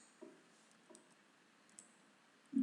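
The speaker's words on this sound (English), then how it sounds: "We click on the label feature, then you can click there" Computer mouse clicks while working in a Microsoft Access database, a few soft, quiet clicks spread out over a faint background, with one louder thump near the end.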